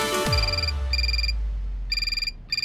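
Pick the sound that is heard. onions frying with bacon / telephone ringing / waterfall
telephone ringing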